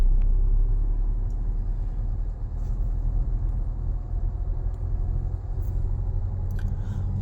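A car's engine hums low and steady from inside the cabin during a driving lesson, a continuous rumble that swells slightly as the car gently accelerates to hold its speed.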